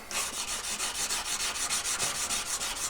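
A platinum jewelry piece is buffed and sanded by hand in quick, rhythmic back-and-forth rubbing strokes, a close, continuous abrasive scratching with no talking.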